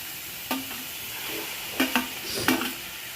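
Roti pieces frying in a pan give off a soft, steady sizzle, broken by a few brief scraping stirs of a spatula. No one speaks.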